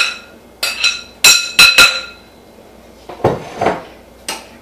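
A spoon clinks and scrapes against a pan while sausage is mixed into a dressing, giving a series of sharp, ringing metallic knocks in irregular bursts with quieter gaps between.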